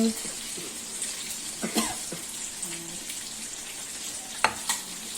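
Chopped tomatoes go into a pan of frying masala fish with aloo, giving a steady close sizzle and a few clinks and scrapes of stirring, with someone talking briefly.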